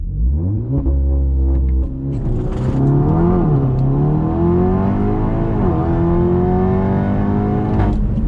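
A 503 hp Škoda Superb 2.0 TSI engine revs hard and accelerates from a standstill through several gear shifts, pitch climbing and dropping repeatedly, loud and close from inside.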